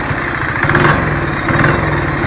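A small engine on a motorized bicycle runs loud and steady, with a rough, chattering idle and slight surges.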